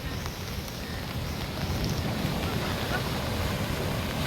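Monsoon surf at Tajpur beach rolls in as a continuous broad roar of waves, steady and fairly loud, mixed with gusty wind buffeting the microphone.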